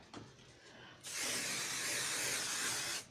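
A sustained hiss from a can of 505 spray adhesive, one continuous burst of about two seconds, close by, after a brief moment of quiet handling.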